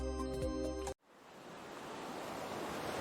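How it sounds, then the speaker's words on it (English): Ocean surf in the middle of an endless, fog-covered sea on a distant exoplanet: a steady, loud broadband wash of waves that swells gradually after a brief tonal passage and a moment of near silence. "here you are in the middle of the ocean"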